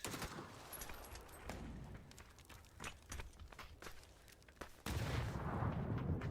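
Shotgun blasts and other gunfire crack through a competitive video game match fought around an apartment, with irregular sharp shots, scattered footsteps and a louder burst of firing near the end.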